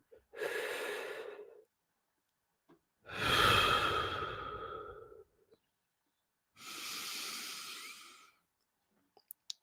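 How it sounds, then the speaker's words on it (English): Three slow, heavy breaths, each a long loud airy rush lasting over a second with quiet gaps between, close to the ear, followed by a few faint clicks; no talking. "Why not breathe heavily so that you can actually hear that?"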